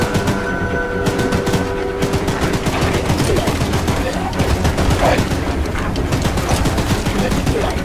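Rapid automatic gunfire in the horror train video game Choo Choo Charles, a dense sustained burst of machine-gun shots fired from the train, loud and continuous over rumbling engine noise.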